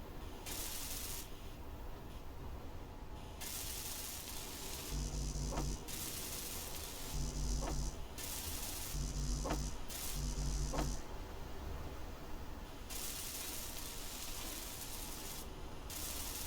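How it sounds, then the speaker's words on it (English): Continuous hissing, spray-like rasp of a welding tool building blocks in Space Engineers, steady and close, with several short, deeper pulsing hums breaking in at regular intervals partway through. "Alright, let's weld these up."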